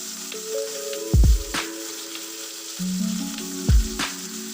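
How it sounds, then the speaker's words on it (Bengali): Small morala fish frying in hot mustard oil in a kadai, a steady close sizzle with two louder bursts of spitting and crackle, tonal kitchen hum running underneath, no talk. "তারপরে মাছগুলো একটু কড়া করে ভেজে নেব।"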